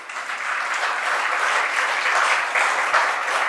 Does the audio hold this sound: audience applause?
yes